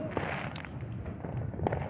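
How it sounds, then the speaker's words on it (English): Fourth of July fireworks bursting in scattered, irregular booms and crackles with no clear rhythm, set against a continuous background rumble. "As we pan in the back and we see the spectacular fireworks."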